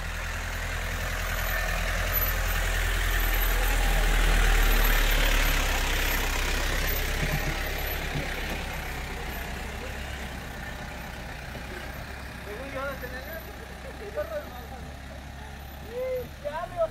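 A truck engine rumbles low and steady nearby, swelling to a louder throb before easing back, with a faint brake hiss; people talk intermittently over it toward the end.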